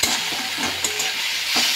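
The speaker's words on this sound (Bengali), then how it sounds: "তো ভালো করে আমি পেঁয়াজটা এখন অনেকক্ষণ ধরে নাড়াচাড়া করে ভেজে নেব" Onions are stirred and fried in a pan, a close sizzle carrying repeated scraping strokes of a spoon at an uneven rhythm, with no voices.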